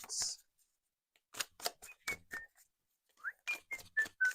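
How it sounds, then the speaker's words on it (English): Someone whistles a short broken tune nearby, a few bright notes in bursts with pauses between, along with soft clicks and rustles. "I don't know why I'm whistling while I work"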